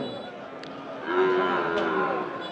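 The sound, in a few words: cattle and buffalo mooing at a livestock market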